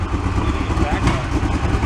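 A flood-damaged Porsche 911 engine running rough at idle, a loud, close, uneven rumble with sputtering pulses from the exhaust as it burns off residue, while people talk over it.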